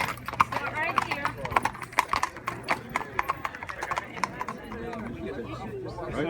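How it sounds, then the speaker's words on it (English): Horses clip-clop close by in a fast, irregular rhythm at a 1776 Battle of Brooklyn reenactment, with occasional whinnies and a crowd chattering underneath. "here come the horses"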